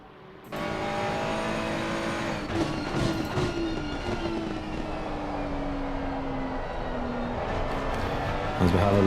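A Ferrari 296 race car on a hot lap at Laguna roars continuously from the cockpit, its engine note sliding downward and shifting pitch through gear changes.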